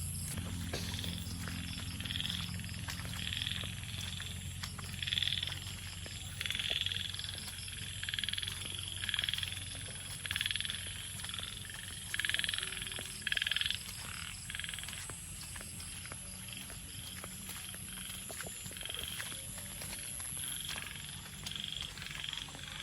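Many frogs croak in repeated rhythmic bursts over a constant background of heavy rain, a thick chorus that rises and falls.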